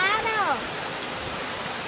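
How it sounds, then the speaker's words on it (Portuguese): Waterfall at Vale Verde, Minas Gerais, a loud, dense, continuous rush of falling water heard up close, with a short voiced sound sliding over it at the start before the steady roar continues alone. "hoje eu tô fazendo um vídeo na cachoeira"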